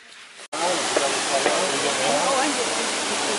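A Hawaii waterfall at the end of a hike roars as a dense, steady rush of falling water that bursts in abruptly and stays loud and close throughout.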